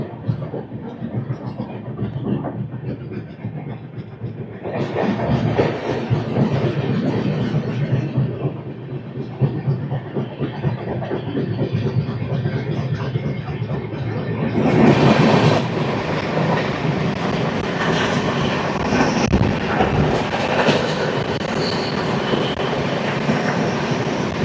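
The Andhra Pradesh Superfast Express runs on the tracks near Samalkot, a loud continuous rumble and rattle of wheels and wagons that swells sharply partway through and stays heavy to the end.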